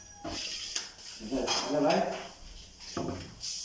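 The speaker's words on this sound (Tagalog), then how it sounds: "tapos yung drawer guide ang ginamit natin, bearing type" Cabinet drawers on bearing-type drawer guides slide open and shut with smooth rolling rumbles and soft thuds, close by, while a person talks over them.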